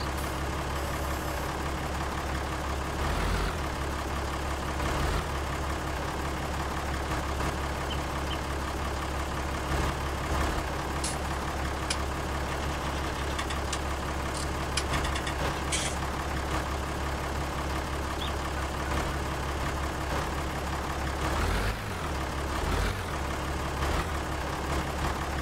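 Truck backing a trailer in a driving simulator game, a steady, loud engine drone that runs throughout, with brief air-brake hisses and faint beeps on top.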